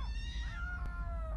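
A cat yowls in an alleyway at night, one drawn-out, wavering cry that slides downward over low background rumble.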